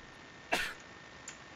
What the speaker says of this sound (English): He just coughed.